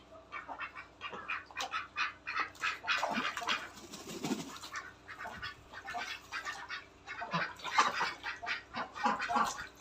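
Ducks in a home garden where ducks and chickens are raised, giving repeated quacking and squawking calls in irregular bursts, fairly close and moderately loud, with some overlapping fowl calls.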